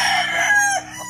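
On a farm, a chicken near its housing gives a brief, loud squawking cluck, a single short call heard up close.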